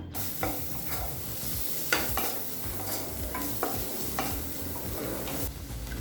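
Chopped onion sizzles steadily in butter in a hot pan while a spoon scrapes and stirs it now and then, producing a constant crackle with intermittent clanks.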